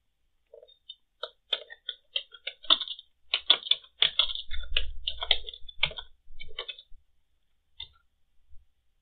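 Typing on a computer keyboard: close, quiet bursts of crisp key clicks with irregular gaps, a dense flurry in the middle, then sparse final taps.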